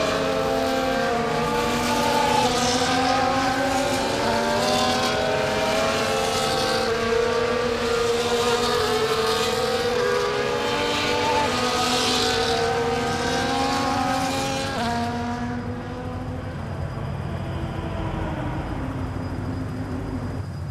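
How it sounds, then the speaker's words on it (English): F1 cars in the F1 24 video game drive toward the starting grid in Melbourne, a loud, sustained chorus of high engine drones with shifting pitches that thins out near the end. "As the cars make their way back to the starting grid to form up and get ready for lights out"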